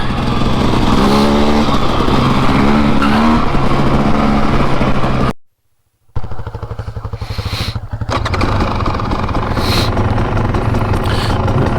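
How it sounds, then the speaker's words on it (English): A Husqvarna TE300 dirt bike engine idles close by, a loud, steady two-stroke burble that cuts out briefly midway, then resumes a rough, even idle. "New batteries helping with the idle for sure. Fires up without having to use a throttle."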